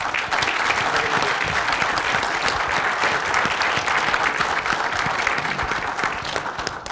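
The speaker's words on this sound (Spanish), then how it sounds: "les pido un fuerte aplauso para él" Loud, sustained applause from an audience at a security forum in Tijuana, many hands clapping in a dense, steady wash that holds and tapers slightly near the end.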